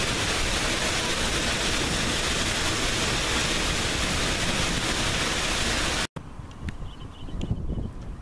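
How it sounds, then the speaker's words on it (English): A steady, loud roar of a waterfall in Iceland fills the air as a constant rushing wash, heard from behind the falls, then cuts abruptly to quieter outdoor ambience. "And we are behind a waterfall."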